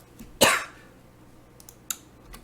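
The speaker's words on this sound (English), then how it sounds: "I am dying from coughing" A single harsh cough bursts out close and loud, followed by a couple of faint, brief throat sounds; no talking is heard.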